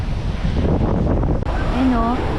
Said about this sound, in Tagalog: Oh, lakas ng hangin, oh